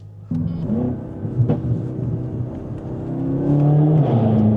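BMW M car with a V8 engine driving, its engine note rising and settling through revs, close and loud, building to a stronger drone near the end.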